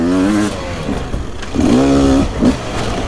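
A Beta 250 RR off-road motorcycle weaves between trees, its engine revving loud and close in rising and falling bursts with short dips between.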